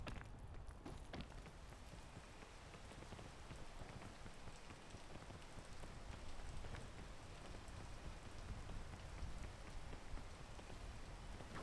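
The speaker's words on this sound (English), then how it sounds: "Oh, it's raining." Steady rain falls in the Mario Kart World video game, an even, dense patter of drops that continues unbroken and fairly soft throughout, with no talking.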